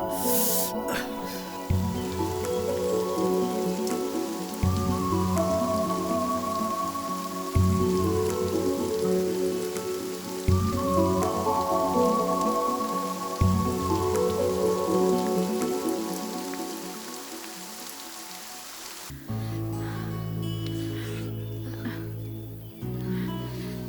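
Steady rain falls outdoors in a dubbed Kannada film scene. The even, dense hiss of drops runs through the whole stretch, with music playing over it.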